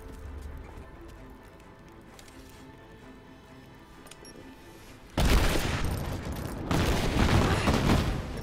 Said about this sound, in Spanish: qué pedazo de explosiones pegas